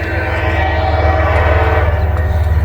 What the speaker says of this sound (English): All right, here comes this train.